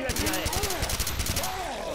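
Rapid gunfire from weapons in the video game Left 4 Dead 2, played on hard mode, sounds in steady bursts throughout, mixed with in-game sound effects and people talking over it.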